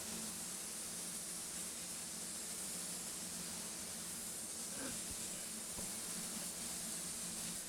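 Spray gun laying a wet clear coat over a silver metallic BMW 320i panel, a steady unbroken hiss of atomized spray throughout, moderately faint and even, with no talking.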